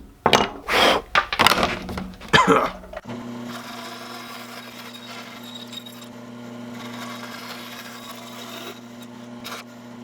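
A tool cuts out a wooden fishing lure body: loud bursts of cutting and knocking in the first few seconds, then a steady motor hum with a low whine carries on to the end, close by.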